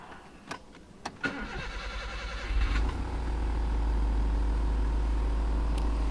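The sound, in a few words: 1992 Nissan Figaro engine starting, individual throttle bodies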